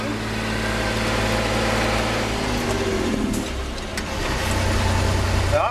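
Magirus truck with an unsynchronized gearbox, its engine droning loud and steady up close as it is downshifted into fifth gear, the pitch dipping briefly mid-shift before the low rumble settles back in.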